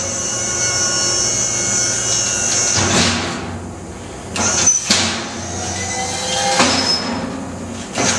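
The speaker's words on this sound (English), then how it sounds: "So I got a 12-volt power unit in there, and we've got it working nicely." A 12-volt hydraulic power unit runs on a Fiero-based UTV, giving a loud steady motor whine and hum, with several sharper surges and strained bursts as the hydraulics load up, close by and without talk.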